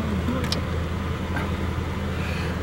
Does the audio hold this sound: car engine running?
yes